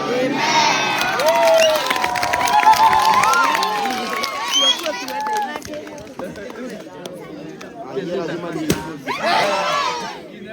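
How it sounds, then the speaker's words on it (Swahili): At the opening of a school toilet at Gathiroine Comprehensive School in Githunguri, Kiambu, a lively crowd claps and cheers, with children shouting and people talking throughout. "Sisi tunapiga makofi wengine."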